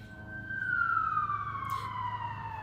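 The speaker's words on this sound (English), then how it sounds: "It sounds like a siren." A single emergency vehicle siren in a video game sounds one long wail that glides steadily downward in pitch, moderately loud over a low background hum, with no talking.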